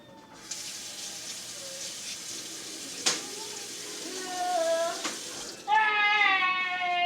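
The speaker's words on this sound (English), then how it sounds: "so let me rinse the spoon again." Tap water runs steadily into a kitchen sink while a spoon is rinsed during chicken salad prep, with a brief clink and the stream's pitch rising as it changes near the end.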